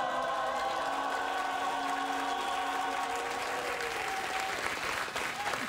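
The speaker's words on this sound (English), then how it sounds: "We don't know what the hell we're clapping for." Studio audience applauding on a late-night talk show, a dense, steady roar of clapping that holds loud and continuous throughout with no other sound on top.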